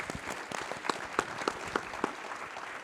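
An audience at a State of the City address gives a warm round of applause, sharp individual claps standing out over a softer crowd wash, moderately distant and steady for a few seconds.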